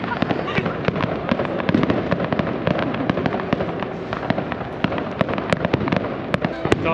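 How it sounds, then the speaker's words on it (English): New Year fireworks bursting over a beach in Alicante, a dense run of sharp crackles and pops with repeated louder bangs over a steady crowd rumble, fairly close, with some voices in the mix. "We're literally running for the fireworks because we've missed it."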